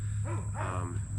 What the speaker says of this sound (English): That's the neighbor's dog, sorry.